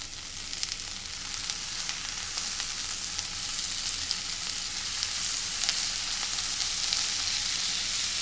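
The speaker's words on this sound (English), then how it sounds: "We're going to add our shrimp right to that skillet." Shrimp searing in shimmering, lightly smoking hot oil in a skillet for a bayou shrimp dish, producing a continuous, close, even sizzle with scattered small pops throughout.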